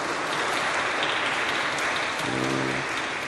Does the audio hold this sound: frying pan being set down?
no